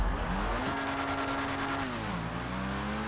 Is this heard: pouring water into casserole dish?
no